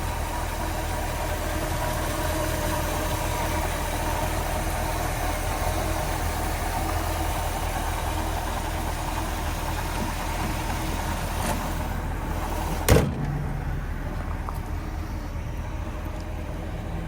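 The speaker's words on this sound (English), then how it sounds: "Engine runs smooth." A restored red 1963 Corvette split window idles steadily after a cold start, a close, even engine rumble with a single sharp knock or thump near the end and no talking.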